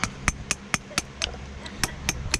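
Flint being knapped with a copper hammer, giving about nine sharp, close taps at an uneven pace, each a crisp click-like knock with no talk over it.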